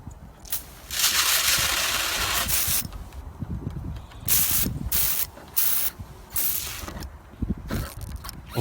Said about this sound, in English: I've got my little Police Magnum OC17 pepper spray right here